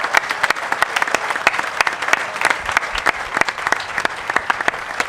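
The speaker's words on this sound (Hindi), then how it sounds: "ज़ोरदार तालियों से कुलदीप जी का इस्तकबाल करें।" Enthusiastic audience applause welcoming a performer at a live music event, a steady burst of many hands clapping loudly throughout.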